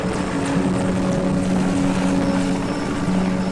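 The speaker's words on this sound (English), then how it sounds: "As soon as the helicopter took off in a cloud of dust" Helicopter taking off in a cloud of dust at a rural village, a loud steady rotor and engine drone with droning tonal hum, continuous and close throughout with no talk.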